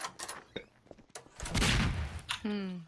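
A burst from an incendiary grenade going off in the game TTT, a loud broadband whoosh and rumble lasting about a second, followed by a sharp crackle of flames, with game noises around it.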